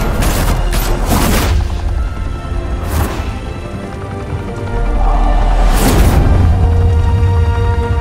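Volleys of gunfire in a Batman video game, several loud bursts of shots in quick succession with booming impacts over a steady low rumble, no talking.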